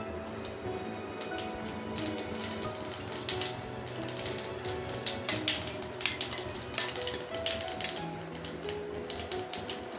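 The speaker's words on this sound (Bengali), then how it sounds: "তেলটা গরম হয়ে গেছে, তেলের মধ্যে দিয়ে দেব হাফ চামচ কালো জিরে।" Half a spoon of black cumin seeds goes into hot oil and sizzles in a steady, close frying hiss, with many small crackles and light taps throughout.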